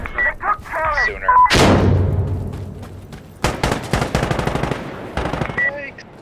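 Gunfire in the video game Insurgency Sandstorm, with a heavy blast that decays slowly, then a rapid burst of loud automatic shots followed by a few more reports, with voices talking in between.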